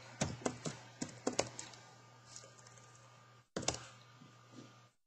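Someone types on a computer keyboard at a desk, with quiet bursts of key clicks followed by a pause, then a few more taps over a steady low hum.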